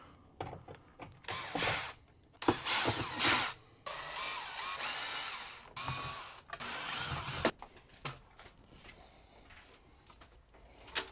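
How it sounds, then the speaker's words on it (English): Six Phillips screws come out of the AC trim plate of a 2018 Wildwood 31KQBTS RV with a Dometic unit, heard as close, intermittent whirring and ratcheting bursts of a driver, separated by quiet pauses. "now we got to take these 6 Phillips screws out and get this plate down"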